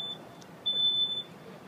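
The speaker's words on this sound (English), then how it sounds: "almost immediately the smoke detector went off" A smoke detector sounds during a fire safety demonstration, giving a brief high beep followed by a longer steady electronic tone over a low background rumble.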